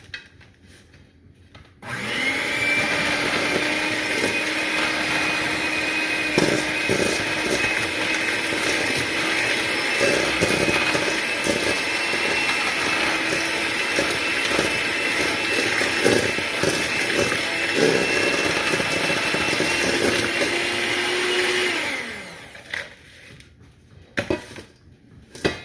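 An electric mixer creams apple cider whoopie pie batter in a bowl, a steady close whirring hum with scraping beater rattle that runs for about twenty seconds before stopping.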